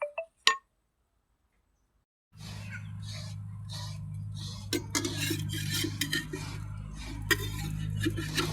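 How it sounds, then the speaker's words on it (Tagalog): A metal spoon stirs food in a pot, clinking and scraping repeatedly against the sides over a steady low hum. A couple of sharp knocks come first, then a short silence before the stirring starts. "Tapos haluin."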